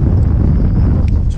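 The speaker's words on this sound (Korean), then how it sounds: "와, 오늘 바람 부네요. 오, 오늘 바람이 세네." Strong wind buffets a fishing boat out at sea, producing a steady, loud rushing roar close to the microphone with no talking.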